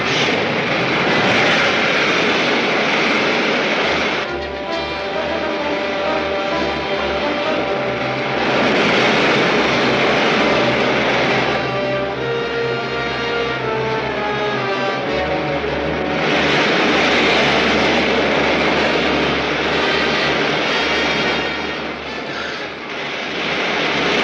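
A rocket ship firing its main jets in a 1953 film serial gives a loud, continuous roaring whoosh that swells and fades in long waves over about twenty-four seconds, with no talk.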